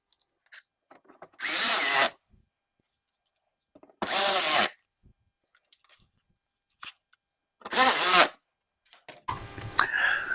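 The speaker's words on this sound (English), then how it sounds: "And now we can go ahead and put these screws in." Power tool driving screws into a BMW X5 windshield washer tank, three loud close bursts of drill whirring with quiet pauses and small handling clicks between, followed by a brief rougher mechanical rattle at the end.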